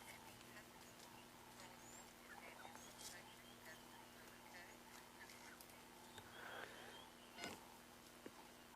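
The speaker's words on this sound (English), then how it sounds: "there's also a number of bird calls" Assorted bird calls chirp and squawk faintly across the African bush during a sunrise safari drive, scattered through a steady low background hum, with elephants nearby.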